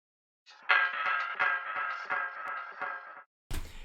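Dry metallic sample for a techno remix, a short run of bright clanking hits in a quick pulsing pattern, close and without added effects, then cut off abruptly.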